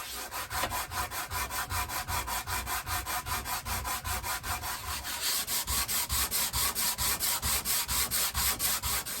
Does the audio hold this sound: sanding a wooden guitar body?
yes